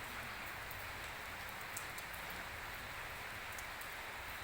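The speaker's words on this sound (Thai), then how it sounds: "โอ้ฝนตกดีครับฝนตกดีทั้งวันเลยนะครับ" Steady rain falls throughout the whole day, a dense even hiss of drops on surfaces that holds at a constant moderate level with no voices.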